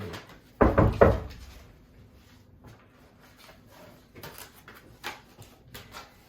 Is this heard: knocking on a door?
yes